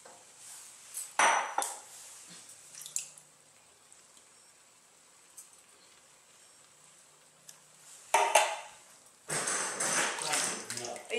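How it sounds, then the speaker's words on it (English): Canned tomatoes tipped into a pot for Bolognese sauce, with diced, puree and crushed tomatoes going in; close wet squishing and metallic clinks of cans against the pot come in bursts between quieter stretches. "So now we're going to add the tomato cans"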